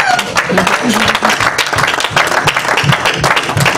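A church congregation breaks into dense, continuous applause and cheering after a preacher's call, loud and close throughout with crowd voices mixed in.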